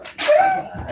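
A dog gives a single loud, close bark with a whimpering, yelping tone.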